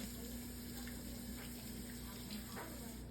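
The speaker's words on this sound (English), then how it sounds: "Let me wash my hands." A kitchen tap runs steadily while hands are rinsed beneath it, a faint continuous splashing hiss with soft irregular spatters, heard close in a home kitchen with no talk over it.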